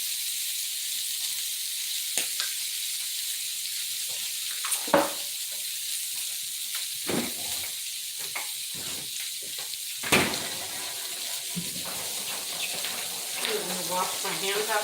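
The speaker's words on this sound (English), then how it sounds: "Wash my hands after that." Hands are washed under a running kitchen tap while shrimp tacos cook nearby: a steady hiss of flowing water with occasional splashes and clatter, fairly close.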